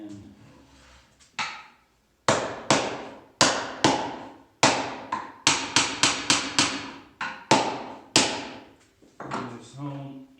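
Mallet blows strike a wooden block to drive a tenon home during a small bench glue-up, about fifteen sharp, loud knocks in irregular bursts with brief pauses between groups.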